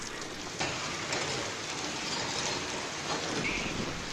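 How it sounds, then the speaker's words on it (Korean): Steady heavy rain falls in Nampo, a dense continuous hiss of drops on surfaces, loud and close with no voices over it. "지금 내리고 있는 비는 24시까지 계속될 것으로 보고 있습니다"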